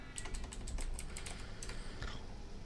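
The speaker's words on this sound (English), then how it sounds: "we type in Docker" Rapid keystrokes on a computer keyboard while a command is entered, a quick run of close, crisp clicks with short pauses and no talking.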